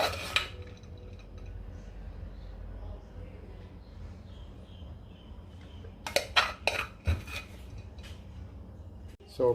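A spoon presses steamed ginger pork and shiitake rice into bowls, giving soft scraping and scattered close clinks of metal on bowl that cluster into a brisk flurry near the end, with faint talk at times.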